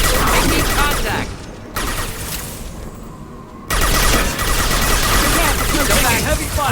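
Loud, dense video-game gunfire in Mass Effect 2, bursts of rapid shots and blasts filling the scene, easing briefly in the middle before resuming at full intensity.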